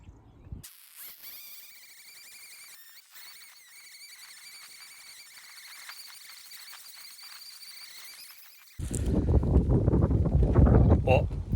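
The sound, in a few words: wind picking up outdoors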